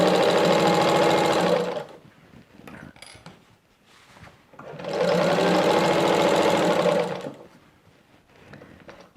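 A sewing machine stitches the binding of a patchwork quilt in two loud, steady whirring bursts, each about two seconds, with quiet fabric handling between them.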